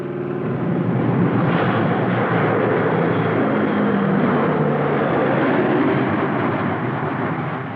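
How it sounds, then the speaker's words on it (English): Military transport aircraft, C-130 Hercules, C-123 Providers and C-7 Caribou, fly over dropping paratroopers in a 1981 Air Force Reserve exercise, giving a loud, sustained propeller-engine roar that swells slightly and holds steady throughout. "Chutes filled the skies, dropped from C-130 Hercules, C-123 Providers, and C-7 Caribou aircraft."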